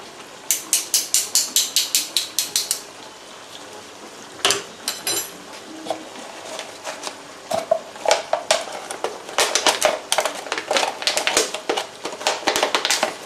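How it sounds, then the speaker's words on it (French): Special herb scissors snipping fresh parsley in a home kitchen, a quick run of crisp rhythmic clicks at the start, then scattered snips and light taps close by, fairly loud with no talk. "c'est un ciseau exprès pour le persil"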